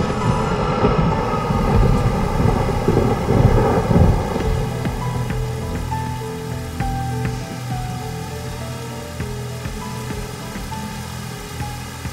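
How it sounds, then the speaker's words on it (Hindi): Steady rainfall hisses and patters across the whole stretch, with a low rumbling undertone and scattered sharp drips standing out. "बारिश आ गई"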